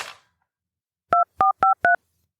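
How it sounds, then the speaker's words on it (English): Four crisp touch-tone beeps from a telephone handset dialing hotel reception, evenly spaced and close, following a faint click and silence. "I picked up the handset and called the reception again."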